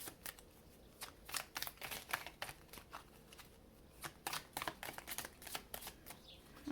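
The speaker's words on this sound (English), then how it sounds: "I'm going to go ahead and get you a couple of these oracle cards for closing" Oracle cards are shuffled by hand in a quick run of soft riffling flicks and slaps, irregular and close, with no talking.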